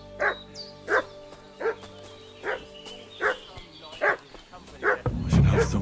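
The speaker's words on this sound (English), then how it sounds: "What's that dog making such a fuss about?" A dog in the video game Kingdom Come: Deliverance II barks in a steady series of about eight evenly spaced woofs at moderate distance, ending under a rising rumble.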